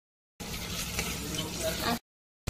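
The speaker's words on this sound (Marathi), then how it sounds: "आता गाजर टाकून घेतलेले आहे। आता छान फिरवून घ्यायचंय" Carrots stirred in a hot pan for kaju matar pulao, a short burst of sizzling and scraping lasting under two seconds, then quiet.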